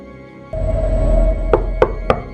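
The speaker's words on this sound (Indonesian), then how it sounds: "Suara ketukan lambat pintu terdengar." Slow knocks rap on a door, three distinct, evenly spaced thuds arriving after a low hum, close and fairly loud in an otherwise quiet space.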